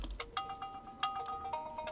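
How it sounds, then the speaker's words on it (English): Cell phone ringtone in the video game Root Letter, a bright repeating melodic electronic tune of short chiming notes, clear and fairly close with a faint background hum. "cell phone rings"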